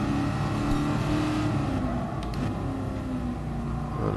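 A 1966 Shelby Cobra 427 engine in Gran Turismo Sport drones loudly and steadily, with a deep rumbling note held throughout as the car drives on.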